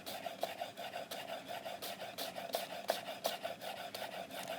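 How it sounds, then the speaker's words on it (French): A chef's knife finely slices an onion on a cutting board, its tip held on the board in a back-and-forth rocking motion, making steady, quick, soft scraping strokes at close range with no talking. "quand on émince un oignon, ou quand on émince un autre légume d'ailleurs, c'est de tenir la pointe du couteau sur la planche"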